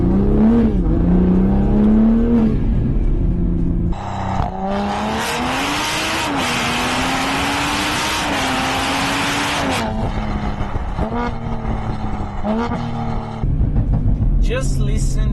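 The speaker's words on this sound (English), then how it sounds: "Just listen to this 6-in-line 3-liter turbo engine." A car with a 3-liter turbocharged inline-six engine pulls along a winding road. A steady, humming engine note climbs and falls with the revs, with clear breaks at gear changes and a muffled cabin tone throughout.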